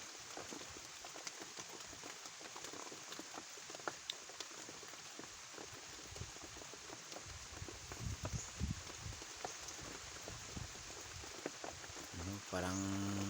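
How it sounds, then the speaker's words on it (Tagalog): Steady rain falling outdoors, a dense hiss of drops with occasional louder patters, moderately close and even throughout. "hanggang hapon yata itong ulan guys"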